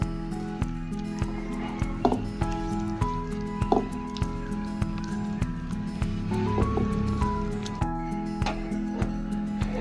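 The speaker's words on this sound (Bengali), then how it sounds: "সর্ষের তেল, সবকিছু মাছের মধ্যে খুব ভালোভাবে মিশিয়ে নিতে হবে।" Small mourola fish are mixed by hand with mustard oil and chilli powder, making soft, wet squishing and dripping sounds close up over a steady background hum.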